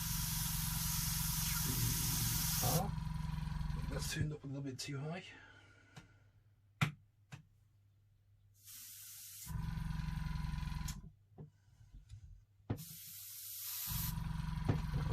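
An airbrush spraying gloss varnish clear coat on a scale model hisses steadily in several bursts, separated by quieter gaps where someone speaks close by.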